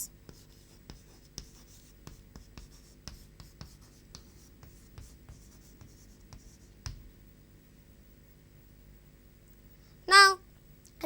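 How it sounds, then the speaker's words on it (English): A pen or chalk scratches out a sentence in short, faint strokes and taps at an uneven pace, with a brief louder burst of sound near the end. "Now we should write the last part of the sentence, that is boy in the class."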